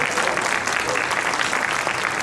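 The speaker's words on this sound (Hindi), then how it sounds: "लेकिन ताली आपने बराबर बजाई।" An audience at an award show and poetry event breaks into steady, dense applause that continues through the whole moment without letting up.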